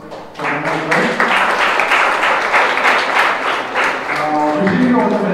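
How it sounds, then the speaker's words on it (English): An audience at a student innovators' summit breaks into applause, a dense, close run of clapping that starts suddenly and holds steady, with a few voices audible beneath and at its edges. "Can we have an applause for them as well?"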